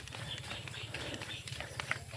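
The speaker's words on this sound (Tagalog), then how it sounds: "Kaya pinasakay namin ng kabayo." Horse hooves clip-clop in a quick, even rhythm as small children ride along a path, fairly faint and close, with soft background noise and no clear speech.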